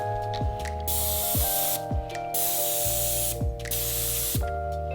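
A paint spray gun sprays trim, atomizing not quite fully, in about four steady hissing bursts of roughly a second each, separated by short clicking gaps, close and moderately loud with no talking.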